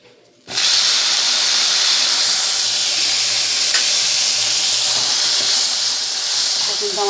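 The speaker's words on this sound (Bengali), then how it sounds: "এই তেলের মধ্যে ঢ্যাঁড়সগুলোকে ভেজে নেব।" Okra dropped into hot oil left in a pan bursts into a loud, steady sizzle and hiss that starts abruptly after a brief quiet moment and holds up close without pause.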